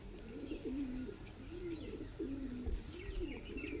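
Kasuri Kalsira pigeons coo in soft, repeated throaty phrases, several rolling calls in a steady rhythm, close but fairly quiet over a low background hum.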